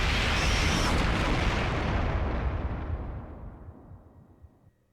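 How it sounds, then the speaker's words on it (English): A huge nuclear explosion in the video game Rain Code: a loud, sustained roaring boom with rumbling debris that slowly decays and fades over several seconds, with no talk over it. "That's a nuclear explosion."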